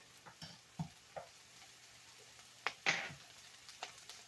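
Onions sauteing in a pan with oregano, onion powder and garlic, a faint low sizzle broken by occasional quiet clinks and scrapes of stirring.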